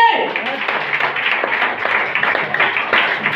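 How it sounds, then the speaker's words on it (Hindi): A crowd at a DXN meeting claps hard and fast, a thick sustained burst of overlapping handclaps with sharper individual slaps poking through. "तो थोड़ा जोर से बोलिए, जोरदार ताली।"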